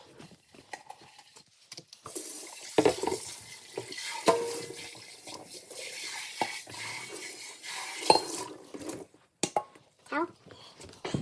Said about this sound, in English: we'll just kind of rinse it out